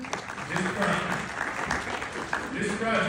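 People at a meeting clap in a moderate burst of applause that runs under an announcer's talk throughout.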